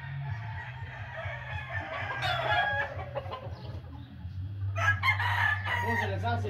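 Hens and roosters kept as breeding game fowl on a farm crow and cluck continuously close by, with several overlapping calls and a louder burst of crowing near the end.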